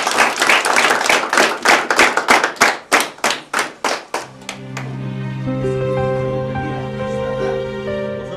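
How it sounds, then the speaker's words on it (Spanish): Students at an adult education school in Juliaca clap together, loud rhythmic group claps in a steady beat that slows and stops after about four seconds, then sustained tonal music or humming carries on alone. "A ver, un aplauso para el CEBA Manco Cápac."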